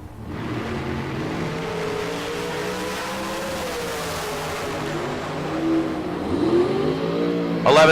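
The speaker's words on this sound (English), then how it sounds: "Mark in the brand new Kidd family dragster, dialed 475" A dragster launching down the strip at a drag race in Tucson, a loud engine roar that rises in pitch and swells toward the end before a sharp burst.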